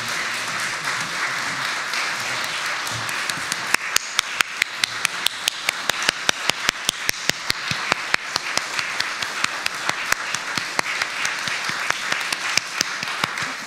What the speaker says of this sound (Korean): 우리 뜨거운 박수로 격려하도록 하겠습니다